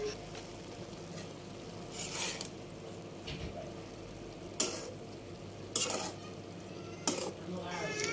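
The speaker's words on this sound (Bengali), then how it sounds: "নেড়েচেড়ে মিশিয়ে নিচ্ছি।" Scraping and stirring of amaranth leaves being mixed in a pan with salt, a soft continuous rustle and sizzle broken by a few sharp utensil clinks against the metal.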